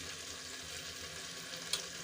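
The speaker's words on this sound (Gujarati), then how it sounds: "આપણા બટેટા અને વટાણા સરસ રીતે સંતળાઈ ગયા છે" Potatoes and peas sauté in hot oil in a pan, making a steady, soft sizzle that continues throughout, with one brief scrape as they are stirred.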